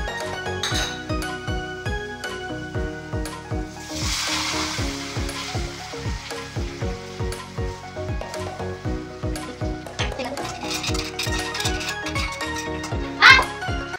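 Sago pearls tossed into a spiced pan for sabudana khichdi, sizzling steadily while a spoon scrapes and clinks against the pan in a quick regular rhythm, close and fairly loud.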